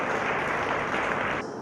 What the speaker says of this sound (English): give him a big round of applause for Advocate Srinivas